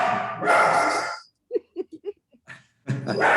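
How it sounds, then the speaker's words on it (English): A pet dog barks in a run of about five short, sharp yips and woofs indoors, set between stretches of someone talking during a remote briefing. "Sorry about my dog. He wants to answer for me."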